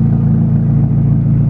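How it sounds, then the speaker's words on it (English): A Dodge Neon with a straight-pipe exhaust turned out the side through a tip, with the muffler gone, gives a loud, close, steady low engine rumble that holds level with no clear rise in revs. "now I just went straight out the side with the tip, so now it sounds like a race car"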